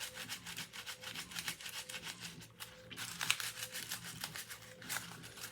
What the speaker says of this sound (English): I like to just use like the oils in my hands and just keep, you know, rubbing it like this.